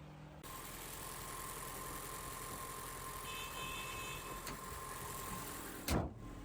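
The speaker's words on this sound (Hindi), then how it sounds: "तो ये था Toyota dynamic force petrol engine." Toyota Innova HyCross with the Dynamic Force 2.0-litre inline four-cylinder petrol engine idling steadily at a low, even drone, with a brief knock or clunk near the end.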